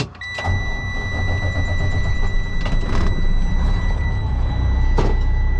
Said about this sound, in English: We'll start the truck up.